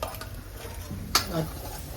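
Hot oil sizzles in a pan as a spice tempering is stirred, with a sharp metallic clink of a utensil partway through, heard close up.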